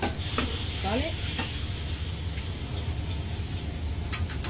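Rice frying in oil in a pan for egg fried rice, a steady close sizzle with occasional stirring scrapes and clinks throughout.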